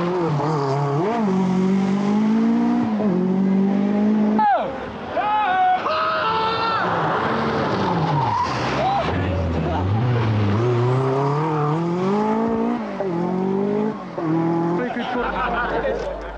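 A 1986 Peugeot rally car races through an Ulster Rally stage, its engine howling loudly through rising and falling gear changes close by, with a brief gap before it revs hard again.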